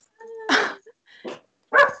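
A dog gives three short barks, spaced apart and fairly close, with quiet pauses between them.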